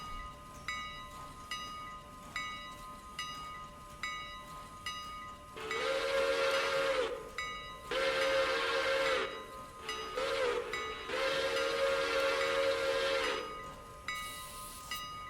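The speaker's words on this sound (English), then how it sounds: "Whistles are cool. You can change the whistle tones." A steam locomotive whistle in the video game Railroader sounds in four long blasts of varying length, loud and near over a rhythmic chuffing and clanking engine, then a short hiss of steam at the end.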